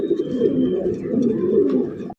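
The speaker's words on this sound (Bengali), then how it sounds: "দেখেন কবুতরগুলো দেখেন" Lahori pigeons coo close by, soft low rolling coos overlapping in a continuous murmur with a faint higher chirp, cutting off abruptly at the end.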